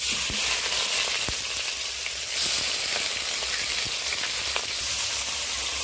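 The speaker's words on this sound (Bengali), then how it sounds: "এই পর্যায়ে আমি আধা চেরা কাঁচা লঙ্কা আর গ্রেট করা টমেটোটা দিয়ে দিলাম" Half-slit green chillies and grated tomato sizzle hard in hot tempering oil for a Bengali fish curry. The frying is a loud, dense hiss close by, with scattered sharp pops and crackles and no talking.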